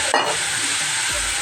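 Ground coconut paste is stirred into mustard seeds frying in hot oil for a green peas curry, producing a brief, close, steady sizzle with a sharp hiss of contact at the start and a scrape of stirring.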